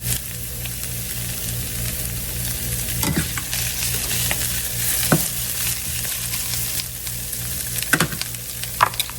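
Fresh spinach wilts in a hot pan with a steady, close sizzle, broken by a few sharp stirring scrapes and clinks, and no voices.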